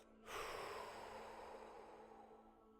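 A single slow exhale out through the mouth during a guided breathing exercise, a soft, steady breathy rush that gradually fades, heard alone without talk.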